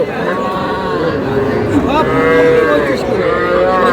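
Loud, drawn-out mooing from bull calves close by at a cattle market, several overlapping low calls amid a noisy crowd with voices talking.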